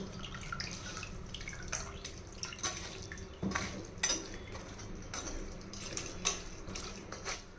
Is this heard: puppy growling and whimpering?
no